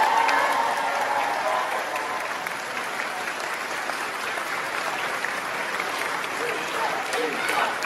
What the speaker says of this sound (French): je pense que vous pouvez déjà l'applaudir